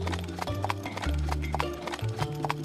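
Galloping horse in an animated Hindi moral story, steady clip-clop hoofbeats in a fast repeating rhythm, with a horse whinny, over a musical score.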